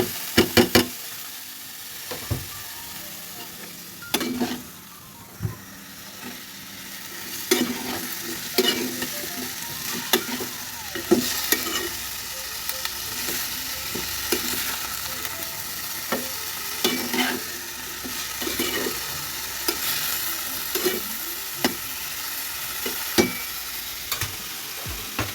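Food being stir-fried in a pan for a home-cooked dinner, steady low sizzling broken by frequent sharp scraping and clanking strokes of the spatula, close up, with no talking.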